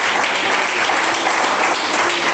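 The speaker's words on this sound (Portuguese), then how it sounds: "Conto 1, 2, conto 3. Palmas" A church congregation claps loudly and steadily, a dense unbroken wash of applause that carries through the whole stretch with no voices on top.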